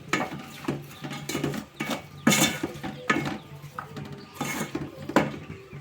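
A spoon stirs village-style egg masala curry with salt in a pan, making repeated metallic scrapes and clatters in uneven bursts, close and fairly loud.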